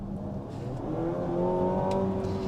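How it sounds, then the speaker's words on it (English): Mazda CX-80 PHEV naturally aspirated 4-cylinder engine accelerating under full throttle, a droning note that climbs steadily in pitch, heard from inside the car, moderately loud and without talk. "it's not a terrible sounding naturally aspirated 4-cylinder motor, but there's just a lot of noise with not a lot of response happening"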